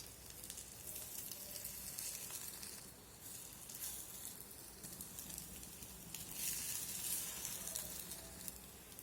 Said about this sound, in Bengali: এক পাশটা কিছুক্ষণ রেখে দেওয়ার পর অপর পাশটাতে আমি ভাজার জন্য উল্টে দেব।